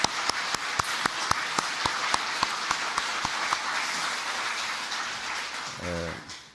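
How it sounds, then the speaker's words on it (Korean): Church congregation applause during a sermon service, a steady rain-like wash of many hands clapping with a few sharp, rhythmic loud claps standing out at an even beat, fading at the end as a voice begins. "하나님께 감사와 영광의 박수를 올려드리겠습니다"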